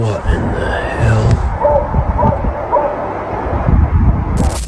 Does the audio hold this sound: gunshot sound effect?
no